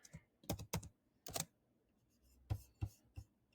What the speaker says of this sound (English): I think I typed it in wrong.